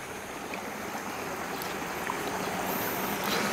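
Irrigation water runs steadily down through terraced rice fields in Ubud, Bali, a continuous close rushing flow with no voices.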